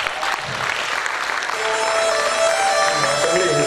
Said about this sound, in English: let us all give them a thunderous applause